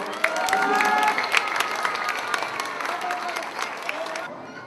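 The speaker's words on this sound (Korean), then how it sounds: "큰 박수로 모시겠습니다." An audience applauds to welcome a speaker onto the stage, a dense, steady wash of clapping with a few voices and cheers mixed in, lasting a few seconds before cutting off abruptly near the end.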